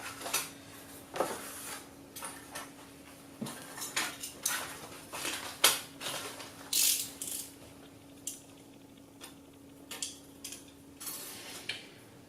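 A packet holding control horns, push rods and screws for an aileron setup is opened, with scattered close plastic crinkles, rattles and small metallic clicks at irregular intervals over a quiet room hum.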